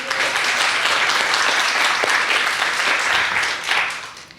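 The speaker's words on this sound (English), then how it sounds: "Let's give another round of applause for Shaquan." Sustained audience applause at a youth panel event, steady dense clapping from a crowd filling the whole stretch, fairly loud and close, with no talking over it.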